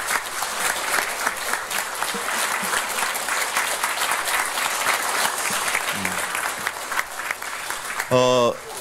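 Sustained applause from attendees at a presidential candidate's press conference fills the room, steady and dense, with a host's voice speaking over it near the end.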